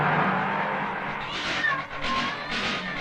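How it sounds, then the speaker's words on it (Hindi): A black cat in a film meows in a drawn-out, wavering cry, rising and falling over a few seconds against a soft background, with no speech. "काली बिल्ली रास्ता काट गई।"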